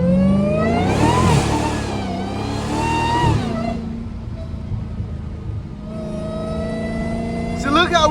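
A Dodge Hellcat's engine, heard from inside the car while cornering, rises and falls in loud, repeated revs that sweep up and down in pitch.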